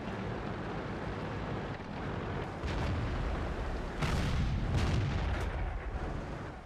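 Tank cannon shots in the video game World of Tanks, a tank destroyer firing: dull booming blasts rise out of a constant rumbling battle noise, with a couple of heavier hits in the later seconds.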